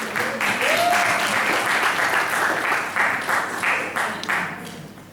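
A room full of people at a school Model United Nations conference applauds for Ms. Ellen, a loud dense burst of clapping that gradually thins and fades, with a brief cheer or whoop near the start.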